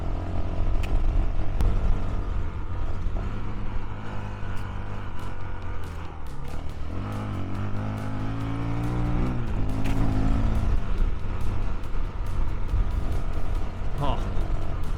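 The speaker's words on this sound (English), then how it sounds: "a light bike, heaps of power. It just fucking rips through it." A light dirt bike tears through a soft sand track in South Australia, its engine loud and close, revving and shifting pitch constantly over a steady roar of wind.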